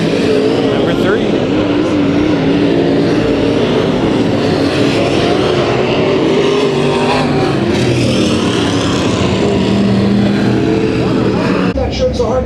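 IMCA Modified race cars roaring around a dirt oval during a heat race at Kings Speedway, a loud continuous engine drone with shifting pitch as cars pass, with faint voices mixed in.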